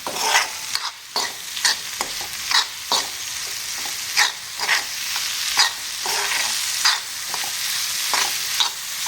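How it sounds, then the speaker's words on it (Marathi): Roasted peas curry is stirred in a pan over medium gas. A spoon scrapes in repeated close strokes over a continuous loud sizzle, with no voices. "आता हे मिडियम गॅसवर पुन्हा एकदा छान मिक्स करून घेऊया"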